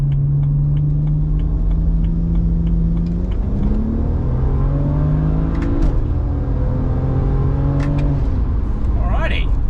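A street car with a drag-tuned transmission accelerating hard from 60 to 120 mph on a highway on-ramp, its engine note rising through gears with steady in-cabin rumble and whine, with a brief voice near the end.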